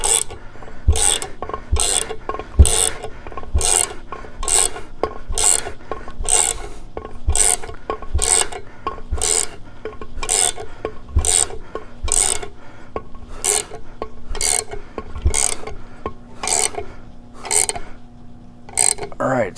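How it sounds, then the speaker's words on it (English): Fifth gear of a 2004-or-later Harley-Davidson Sportster being pulled through its bearing inner race with a puller: a steady series of about twenty evenly spaced ratcheting, rasping clicks, close and fairly loud, with no voice. "we're pulling on the inner race to pull that fifth gear all the way through like that."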